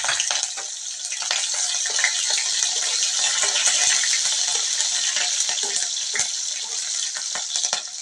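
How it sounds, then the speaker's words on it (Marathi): Cumin seeds and a green chili fry in hot oil for an okra dish, giving a steady, bright sizzle with fine crackles throughout, close and continuous, with no talking. "जिरं चांगलं तडतडलं की त्याच्यामध्ये चवीसाठी आपण एक हिरवी मिरची घालून घेऊया"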